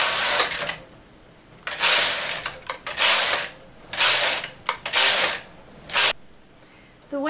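A knitting machine carriage runs rows of waste yarn, making loud, repeated rasping sweeps about a second long with brief pauses between passes.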